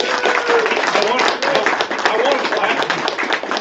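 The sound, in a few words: audience applause at a promotion ceremony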